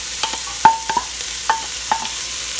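Peppers, celery and garlic sizzle in a hot pan as a spoon stirs them, giving soft frying hiss broken by a few sharp scraping clicks of stirring, close and fairly quiet.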